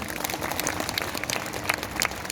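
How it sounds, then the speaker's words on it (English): Audience applause at an MBBS white coat ceremony for medical students, a steady dense patter of many hands clapping throughout, moderately loud and without talk over it. "clapping shouldn't stop, please."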